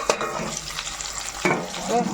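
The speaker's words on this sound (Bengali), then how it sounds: "সিমগুলো দারুণ ভাজা হয়ে গেছে" Flat sim beans with salt and turmeric fry and get stirred in oil in a pan, giving a close, steady sizzle with scraping stirs.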